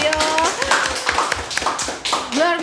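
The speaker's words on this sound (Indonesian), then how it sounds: "tepuk tangan dong yang ada di studio" A studio audience claps in quick rhythmic bursts at an architecture podcast recording, loud and close, mixed with people talking and reacting over it.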